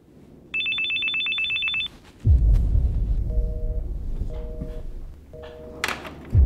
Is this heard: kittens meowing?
no